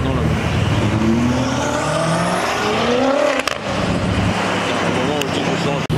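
An Alpine sports car roars past close by at a car show, its engine note rising and sweeping through gears while people talk in the background.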